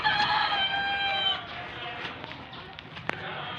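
Native free-range chickens on a small farm, with a rooster crowing loudly near the start, followed by scattered clucks and softer fowl sounds close by.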